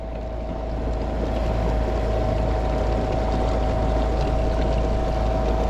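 Newport NT30 electric outboard motor at full throttle pushing a Jonny Boats Bass 100 kayak, a steady low hum with a faint whine, under continuous water rush and wind noise throughout.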